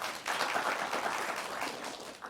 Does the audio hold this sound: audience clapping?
yes